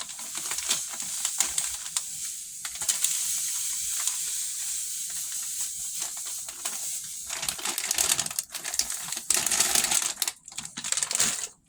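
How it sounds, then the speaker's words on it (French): Flour mixture of blue flour and corn flour is stirred and worked by hand in a bowl for ablo, giving steady scraping, crunchy rustles with occasional louder bursts, close and continuous with no talk. "Et je vais mélanger"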